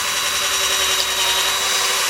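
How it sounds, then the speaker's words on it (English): A power drill bores holes through untreated lumber for a rabbit hutch, producing a steady, close whine with a sustained motor tone and no talk. "we're just drilling 3 holes"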